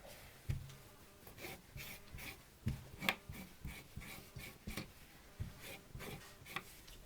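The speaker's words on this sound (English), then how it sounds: "I'm going to freehand draw my pattern onto it" A pen or marker drawing freehand across folded cloth, giving soft scratchy strokes and rubbing in an irregular rhythm, close and quiet, with occasional light taps and fabric handling.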